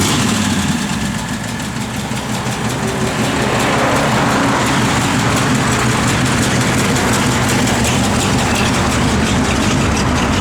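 A 1930 Ford Model A sedan's flathead engine with a mild cam idles steadily and loudly close by, a continuous low rumbling throb with no speech.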